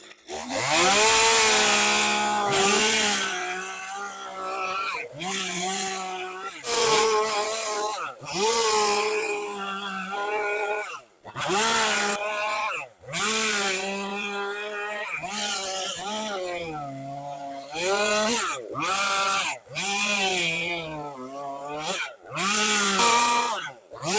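A chainsaw carving a wood spirit face into a log, revving in repeated loud, close bursts with rising and falling pitch, separated by short pauses over about twenty-four seconds.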